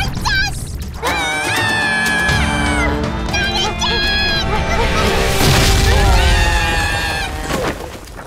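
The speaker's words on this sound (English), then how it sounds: "A shooting star! And it's coming towards us!" A cartoon shooting star crashes down in a loud, sustained rushing boom with whooshing, glittering tones and rising swoops. Excited character voices and music play over it.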